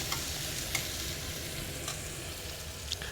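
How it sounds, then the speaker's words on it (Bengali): Chopped onion sizzling steadily in a little oil in a pan, a constant close frying hiss with occasional soft stirring clicks and pops. "এই যে একটু আমি তেল সামান্য দিয়েছি, তার জন্য পেঁয়াজ কুচি দিয়ে দেব।"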